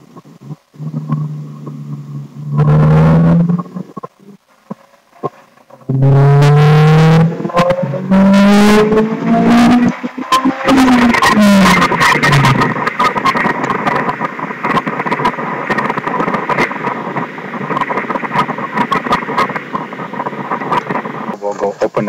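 A turbocharged Honda S2000 AP1 engine pulls hard in third gear, its loud, rising whine climbing steadily in pitch as it accelerates. A sustained, close, roaring drone follows the pull.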